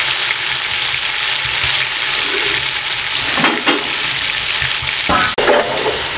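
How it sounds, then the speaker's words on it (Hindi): Chopped onions sizzle steadily in a pan over a medium flame for Kabuli pulao, a continuous loud hiss broken by a few scraping stirs near the end. "3 से 4 मिनट मैं इसको 4 मिनट प्याज को नरम कर लूँ मीडियम फ्लेम पे"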